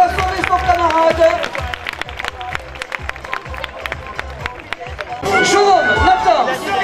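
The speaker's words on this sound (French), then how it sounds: "On va l'applaudir bien fort." Crowd at a course landaise bullfighting event in Capbreton claps and cheers for a young man, dense applause and chatter running steadily throughout, swelling louder near the end.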